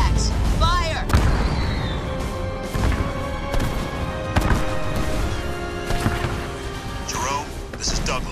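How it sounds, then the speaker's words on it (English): Kodiak artillery fires in Halo Wars 2, heavy booming blasts and crashing impacts spread across the moment, one sharp hit near the start, with voices speaking over the bombardment. "Kodiaks, fire!"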